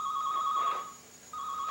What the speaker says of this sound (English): It's been ringing off the hook.